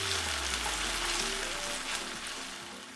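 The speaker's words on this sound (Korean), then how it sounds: "달달 볶아서 마늘기름 내주고" Steady sizzling of garlic frying in hot oil, a continuous crackling hiss with faint stirring, close and fairly loud, no voices.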